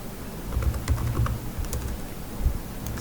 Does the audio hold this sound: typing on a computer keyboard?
yes